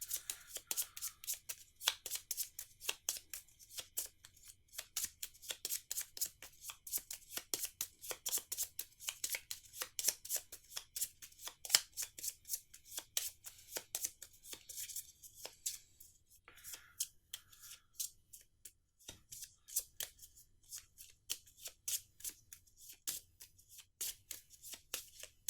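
Magic: The Gathering cards are shuffled by hand over a long stretch, a fast run of crisp riffles and snaps, close and quiet, with no one talking.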